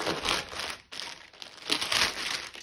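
Plastic packaging of a cross-stitch kit crinkling and tearing open, a steady, close rustle that breaks off briefly and then returns, with no talk.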